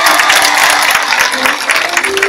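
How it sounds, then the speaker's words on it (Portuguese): A congregation applauds at a diamond jubilee celebration for the 60th anniversary of the parish of Nossa Senhora de Lourdes, with loud, continuous, dense clapping filling the church. "Uma salva de palmas."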